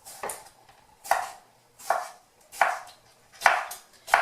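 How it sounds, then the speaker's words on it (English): A knife chops mulberries into large chunks on a board: six crisp, evenly spaced chops, each a sharp tap that fades quickly, heard close with nothing else in between. "So I'm just chopping it in pretty large chunks."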